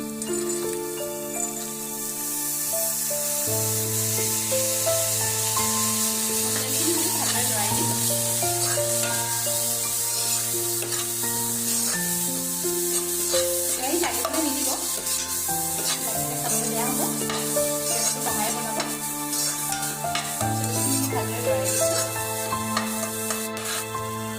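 Spices are stirred and fried in a pan for an Assamese banana flower stir-fry, producing a constant oily sizzle with occasional scraping, heard under steady background music throughout.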